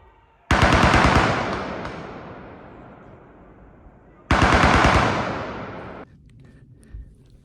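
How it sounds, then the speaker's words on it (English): Two long, loud bursts of machine-gun fire with blank rounds during military training in the mountains near Hightower Gap, rapid rattling volleys that each last a couple of seconds and then decay, with faint shots in between. "I should hear some shooting. Well, I did."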